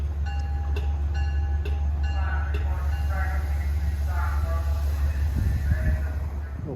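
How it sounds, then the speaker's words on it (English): A Metro-North commuter train, number 876, arrives at a station with its brake valve working, giving a steady deep rumble, tonal squeals and hissing, and scattered metallic clicks as the cars roll in close by. "Listen to that brake valve."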